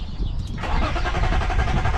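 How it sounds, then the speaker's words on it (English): A BMW E36 that has sat unused for years cranks as it tries to start, the starter churning loudly and close for about two seconds without catching. "Let's see, try to start it."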